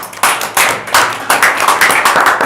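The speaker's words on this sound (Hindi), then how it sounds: "एकदम ताली बजाओ उनके लिए" Close, loud handclaps from a few students in a classroom, irregular and sharp with uneven rhythm, short bursts over about two seconds.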